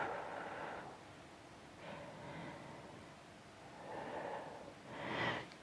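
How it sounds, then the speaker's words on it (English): A slow exhale during a Pilates back exercise, soft airy breaths swelling and fading several times at close range, quiet and unaccompanied by speech. "and then breathe out, down."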